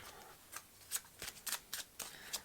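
Tarot cards being shuffled in a tight, tiny room: a quick series of crisp riffling bursts, about eight short flicks at an irregular rhythm, close and fairly quiet with no talk.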